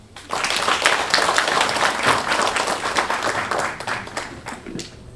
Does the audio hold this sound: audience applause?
yes